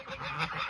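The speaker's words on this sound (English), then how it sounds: "So these are little geese." Young geese on a small farm honk in a close, continuous burst of nasal calls that overlap one another, fairly loud, with no voices.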